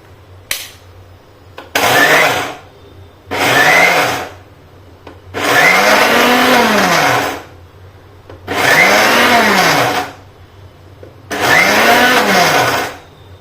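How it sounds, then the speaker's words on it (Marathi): Mixer grinder grinding moong dal in short repeated bursts, about six loud whirring pulses separated by brief pauses as the motor spins up and winds down, close by. "तर हे आपण पूर्ण मिक्सरला बारीक करून घेऊ"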